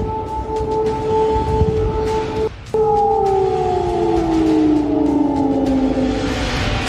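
An air raid siren wails over Kyiv during the war, holding a loud, steady two-tone note, cutting out briefly, then sliding slowly downward as it sounds on continuously with no voices.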